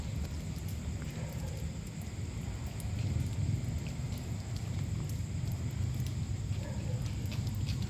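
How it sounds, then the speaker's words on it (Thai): Steady rain falls on an open shelter in the evening, a continuous dense hiss with low rumbling underneath, loud and unbroken throughout with no talk. "ตอนนี้ฝนตกด้วย"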